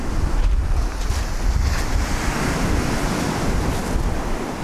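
Strong wind buffets across a fishing beach, a loud, constant roar and rumble with surf washing underneath, gusting continuously with no pause.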